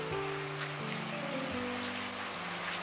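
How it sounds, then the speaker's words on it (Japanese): Heavy typhoon rain pours outside an old house in the countryside, a dense, unbroken hiss that holds steady throughout, with a low hum running underneath. "雨のカーテンっていう感じです。"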